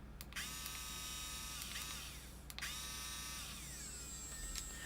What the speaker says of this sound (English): we got our little baby Dremel here, this tack life deal. It's kind of bogging it down